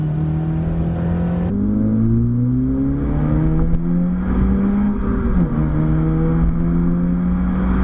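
A 9th-generation Honda Civic Si with a manual gearbox pulls hard, its engine note rising steadily in pitch through the revs, dropping at a shift, then climbing again, loud and close from inside the cabin.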